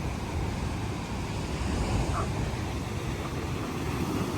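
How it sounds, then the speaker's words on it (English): Steady broadband roar of ocean waves crashing on the rocky Madeira coast, loud and continuous with wind noise on the microphone and no talking. "The waves are just crazy."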